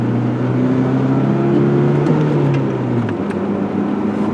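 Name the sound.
Ford Ranger pickup engine at full throttle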